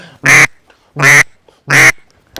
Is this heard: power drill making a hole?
no